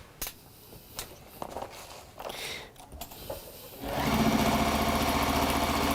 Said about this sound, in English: I'm going to get stitching again